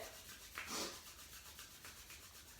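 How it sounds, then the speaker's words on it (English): Palms rubbing together during a yoga eye exercise, a soft, faint dry swishing friction that rises briefly near the start and then continues quietly, with no talking. "rub your palms together"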